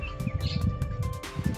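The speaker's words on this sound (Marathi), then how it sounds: "मस्त पक्ष्यांचा आवाज येतो इकडे." Small birds chirp in a Konkan orchard, scattered quick tweets over a low background rumble, moderately close and fairly quiet.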